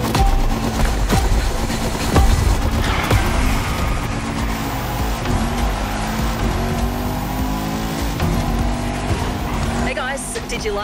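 A Bugatti Veyron roars in the racing game The Crew Motorfest, a loud sustained engine drone with shifting pitch and tire noise, while a voice talks over it.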